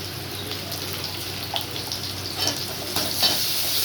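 Curry leaves, ginger and garlic sauté in hot oil with a steady, close sizzle that stays even throughout, and a few faint stirring scrapes come through.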